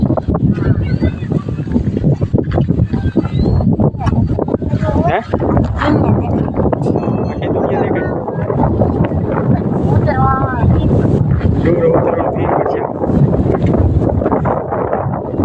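Strong wind buffets the microphone on a hilltop, a low continuous rumble beneath people chatting nearby throughout.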